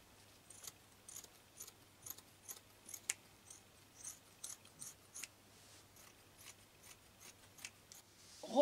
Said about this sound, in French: Je vais couper la manche de ce pull.